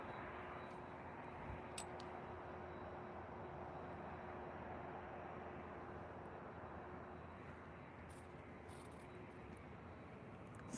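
A Delta airliner in special livery rolls for takeoff at LAX, its jet engines giving a steady, distant broadband roar that holds evenly throughout with no voices.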